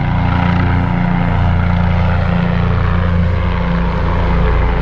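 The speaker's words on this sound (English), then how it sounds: "Helicopter's coming back." A helicopter flies overhead above a trail near Falls Dam in Raleigh, North Carolina, producing a loud, continuous rotor thrum and engine roar that holds steady and close throughout, with no talking.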